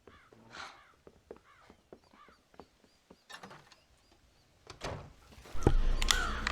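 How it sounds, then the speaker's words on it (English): Crows cawing in the Red Dead Redemption video game, a series of short harsh calls close by, with scattered thumps and clatter and a louder rustling burst near the end. "Scare the crows out of the silo."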